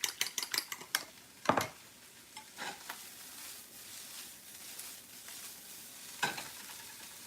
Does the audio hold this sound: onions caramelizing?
yes